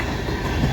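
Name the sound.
CN freight train passing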